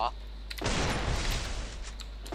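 Sustained burst of rapid gunfire from a shooting video game, loud and dense for nearly two seconds before cutting off, with a steady low hum underneath.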